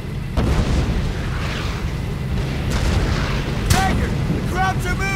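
Sustained suppressing gunfire and explosion booms in the WWII shooter Brothers in Arms: Hell's Highway, a dense loud rumble of shots and blasts with some in-game voices calling out over the din.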